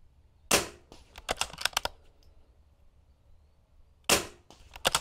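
22 rimfire rifle firing single shots at steel targets on a match course; sharp cracks come one after another with quick metallic pings from the steel, then a pause before two more cracks.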